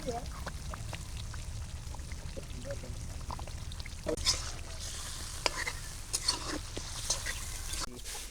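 Chicken pieces dropped into hot spiced oil in a village kitchen, with a low steady frying hiss, several splashes and scrapes of stirring, and someone talking faintly over it.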